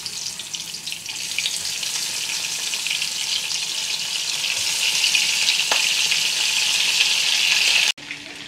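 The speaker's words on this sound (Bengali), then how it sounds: "এখানে তেল গরম হয়ে গেছে, এখন আমি চিংড়ি মাছগুলো ফ্রাই করবো।" Shrimp sizzle in hot oil in a home kitchen, giving a loud, continuous bright crackle that grows slightly stronger before cutting off abruptly near the end.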